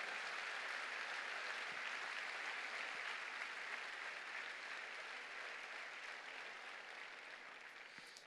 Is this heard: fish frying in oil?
no